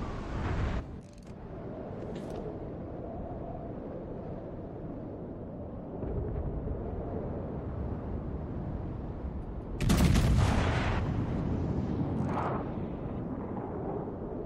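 Naval shellfire from warships in World of Warships Legends, sustained booming battle noise with heavy rumble and a louder burst of firing partway through.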